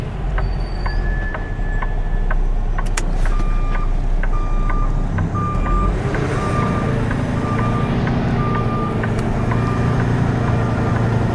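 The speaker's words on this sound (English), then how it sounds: "I would love to disconnect that backup alarm" A truck's backup alarm beeps in a steady, evenly spaced rhythm while the vehicle reverses, over a loud idling engine rumble with a few clanks.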